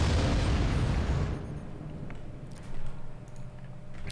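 Ballista weapons fire in the game Forts: a heavy booming blast opens, then fades into a rumbling tail with a second thud and scattered smaller impacts at a distance.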